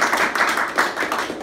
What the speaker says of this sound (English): give Amanda a round of applause